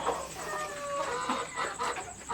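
Sonali chickens about two months and twenty days old, weighing nearly 2.5 kg, cluck and chatter on a poultry farm in a busy overlapping flock sound close by, with no talking.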